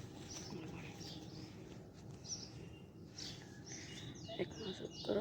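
Kept pigeons coo softly in a quiet setting, faint low coos and a few light chirps scattered over a dull background murmur, with slightly louder calls near the end.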